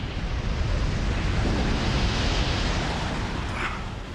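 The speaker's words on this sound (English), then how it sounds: "the avalanche is funneled down the fire break." An avalanche funnels down a fire break in the Australian outback wilderness, a loud, continuous broadband roar and rush that holds steady, then eases slightly toward the end.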